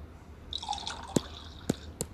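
Plain water runs and drips into a glass at home, a faint trickle giving way to three sharp separate drops near the end, close by with no talking.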